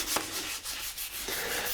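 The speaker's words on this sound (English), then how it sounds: "The next step is sanding" Hand sanding of a primed titanium bike frame during painting prep, a steady broadband rubbing hiss with a few sharper strokes, close and continuous, no talking.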